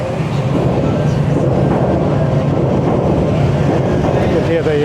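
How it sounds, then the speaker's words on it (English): Train rumbling on an overhead track in Tokyo's Ginza district, a steady loud roar heard from street level beneath, with city noise mixed in. "You can hear the train going above me."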